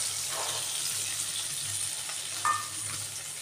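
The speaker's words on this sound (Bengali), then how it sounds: "এখন মাংসটা একটু এদিক ওদিক করে আমি ভেজে নিচ্ছি বন্ধুরা" Chicken pieces for biryani sizzle steadily in a hot pan while being turned over, with a continuous frying hiss, occasional scraping of the spoon and a brief clink near the end.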